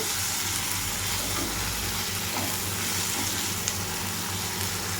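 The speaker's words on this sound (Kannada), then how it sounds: "ಟೊಮೆಟೊನ ಸೇರಿಸ್ಕೊಂಡು ಇದು ಚೆನ್ನಾಗಿ ಫ್ರೈ ಮಾಡ್ಕೊಳ್ಳೋಣ" Tomatoes fry in hot oil in a pan, giving a steady, loud, dense sizzle that continues without a break, close up and with no talk.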